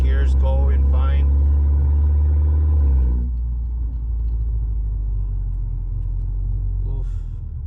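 A 2015 Mercedes CLA 250 4matic engine running, a steady loud low rumble throughout, with someone talking over it at first.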